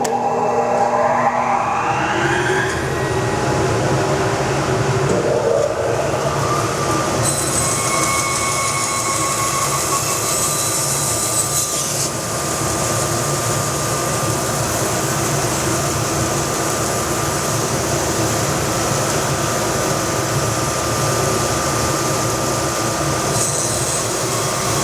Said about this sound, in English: I'll hit the dust blower.